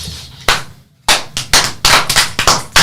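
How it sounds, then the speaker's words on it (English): A burst of sharp hand claps at the end of a podcast recording session in a studio, close and loud, starting with a single crack and followed by a quick uneven run of claps. "And let me just clap."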